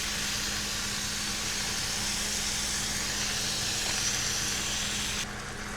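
Ground beef sizzling on a preheated griddle after being placed meat side down, a loud, steady broadband hiss running close and continuously before dropping slightly near the end.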